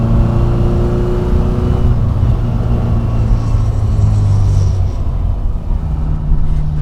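A 1964 Morris Mini Cooper S with a 1071cc engine drives through the gears, a loud, steady engine drone with shifting pitch and road rumble filling the interior, no talking.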